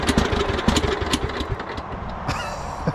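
A 1999 Husqvarna LTH 130 lawn tractor engine runs roughly as if on choke, loud and close with an uneven, sputtering chug that wavers throughout.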